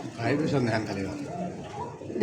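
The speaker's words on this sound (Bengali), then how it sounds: "এটা কি কবুতর মূলত কোকা কবুতর" Koka pigeons coo in soft, rounded, repeated calls close by, blending with a person talking over them throughout the short stretch.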